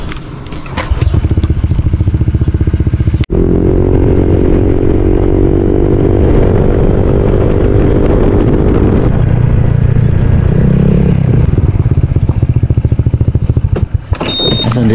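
Motorcycle ridden along a road, its engine droning loudly and rising in pitch through the middle before easing off, with clattering knocks at the start and end.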